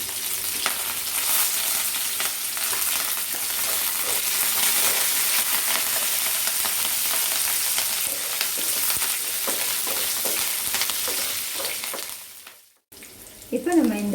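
Onion, dried chillies and curry leaves frying in oil for a chutney, a dense continuous hiss and crackle up close with faint stirring taps, cut off near the end before a voice speaks.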